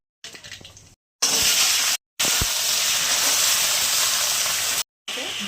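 Dried red chillies and nigella seeds sizzle in hot mustard oil in a kadai, a loud close hiss that stops briefly twice and then resumes at steady strength.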